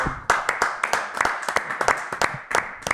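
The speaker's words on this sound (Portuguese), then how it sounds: "Podemos começar a bater uma salva de palmas" A small group in a sports talk-show studio claps along in a steady, rhythmic beat. Each sharp hand clap stands out clearly and close by, repeating roughly every quarter second for three seconds.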